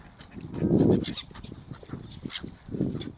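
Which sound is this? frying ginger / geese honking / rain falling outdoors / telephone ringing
geese honking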